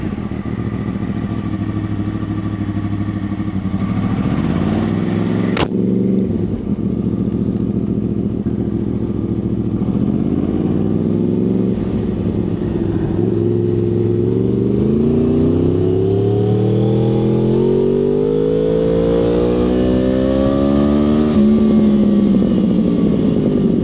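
Go-karts lapping the SpeedWay kart track in Elektrėnai, small engines droning loudly and continuously close by, pitch rising and falling in repeated sweeps as the karts accelerate out of corners and ease off.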